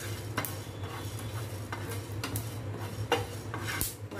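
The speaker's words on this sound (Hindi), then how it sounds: "अब हम भुनेंगे धनिया।" Coriander roasting in a pan, a spoon or spatula scraping and clinking against the metal in irregular strokes over a faint steady background hum, no talking.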